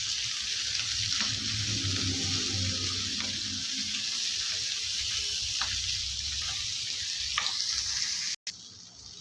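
Steady sizzling of tomatoes and onions sautéing in a pan, a continuous close hiss with occasional soft clinks and stirring, ending in a brief cut.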